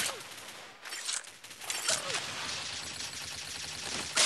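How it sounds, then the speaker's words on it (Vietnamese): Machine gun fire in the video game Dead Knight comes as dense, rapid bursts of gunshots, loud and crackling, with short lulls between volleys. "Súng máy đúng không? Ló mặt thì chỉ có chết."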